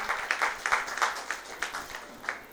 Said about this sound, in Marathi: या सर्वांसाठी पुन्हा एकदा जोरदार टाळ्या